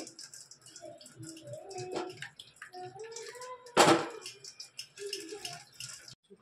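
Watermelon juice is strained out by hand, with liquid splashing and wet squelching in irregular bursts and one louder splash near the middle, while a person talks intermittently close by.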